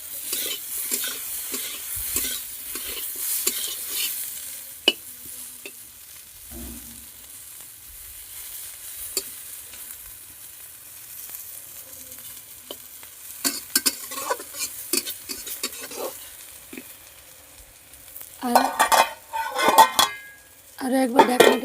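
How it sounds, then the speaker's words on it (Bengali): Fish frying in a pan is stirred with a utensil: soft sizzling under scattered scrapes and clinks of metal against the pan, with louder bursts of stirring and clatter near the end. "এখন আমি ঢাকনাটা খুলে একটু নাড়াচাড়া করে দিচ্ছি।"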